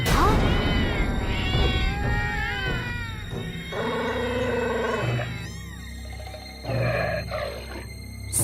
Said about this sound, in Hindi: यहाँ तो सारी जंगली बिल्लियाँ हैं